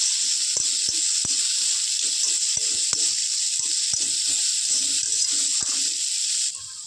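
Chickpeas sizzling in a small amount of refined oil, a constant close hiss broken by sharp pops and clicks, likely from stirring, fading slightly at the very end.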